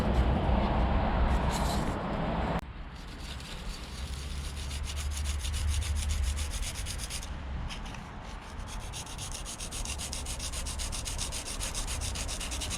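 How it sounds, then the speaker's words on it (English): Vespa P200E scooter parts being hand-sanded with fine-grit sandpaper, a steady close rubbing and scratching that runs on without a break, heavier at first and then lighter and more even. "down first with some slightly thicker sandpaper, then some 1000 grit, then some 2000 grit"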